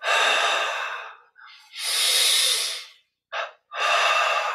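Deep, forceful breaths during guided Kriya Yoga meditation, drawn as if lifting heavy weights: several long loud inhales and exhales with brief pauses and one short sharp breath, close to the ear and without talk.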